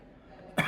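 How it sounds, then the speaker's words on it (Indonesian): A single sharp cough bursts out at the very end of a quiet stretch, close to the microphone, during an Indonesian-language talk on software architecture. "maaf ya, saya batuk"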